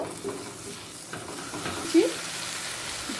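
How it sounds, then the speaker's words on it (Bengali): Yogurt gets stirred into a sizzling egg and black pepper curry, the frying hiss steady beneath soft spoon scrapes and one brief clack against the pan. "টক দই দিয়ে ভালো করে মিশিয়ে নেব"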